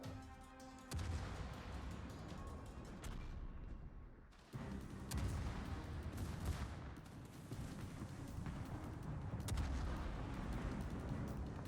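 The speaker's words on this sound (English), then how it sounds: "Next salvo comes in." Naval artillery salvos in the World of Warships naval battle game, heavy booming gunfire bursts layered with rumbling impacts and explosions, loud and dense with a brief lull in the middle.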